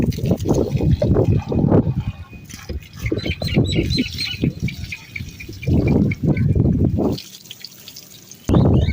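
Water pours and trickles outside a mud house in a village, a steady wet splashing mixed with bird chirps, with brief pauses and a loud return near the end.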